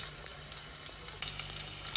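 Garlic cloves sizzle in hot oil in a pan for a home-cooked crab curry: a steady, close frying hiss with small crackles that grows a little louder partway through, with no talking.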